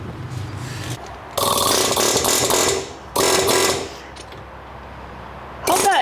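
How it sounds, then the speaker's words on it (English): An air hammer working on a Bobcat 610 skid steer transmission fires in loud, close rattling bursts, one long burst, a shorter one and a brief final one, separated by quieter pauses. "Well, we could put the air hammer on it."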